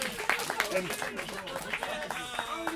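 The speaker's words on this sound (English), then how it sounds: "Round of applause, please" An audience at a car-themed awards event applauds, scattered claps and a few chuckles running under ongoing talk and laughter, fairly quiet overall.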